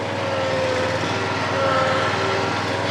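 A riding mower cuts grass with its engine running steadily, a loud, even drone with a faint whine on top and no speech.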